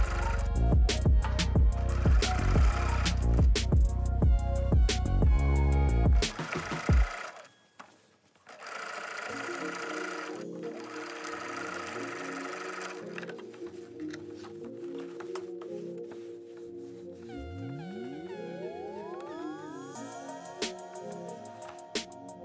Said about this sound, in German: Und dann einmal lang nähen,